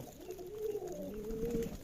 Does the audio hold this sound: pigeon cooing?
yes